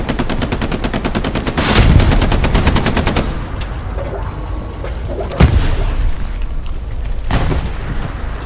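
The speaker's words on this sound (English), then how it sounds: "There's an MG on D7, D7 MG" Machine gun fire in the Hell Let Loose game: long rapid bursts up close, broken by heavy booms and scattered shots.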